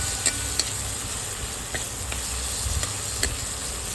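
Tomatoes for a spicy dried-fish chutney fry in a pan while being stirred, a steady close sizzle broken by several light clicks and scrapes of the spoon, with no talking.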